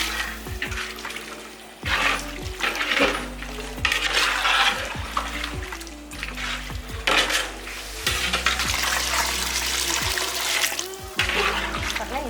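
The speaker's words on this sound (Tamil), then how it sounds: "தண்ணி பார்த்தீங்கன்னா இந்த கறி முழுகிற அளவுக்கு தண்ணி ஊற்றிக்கணும்." Water being poured into a large pot of mutton curry, about five liters: a continuous close splashing and gurgling stream with stirring clatter and sizzle, steady and loud throughout.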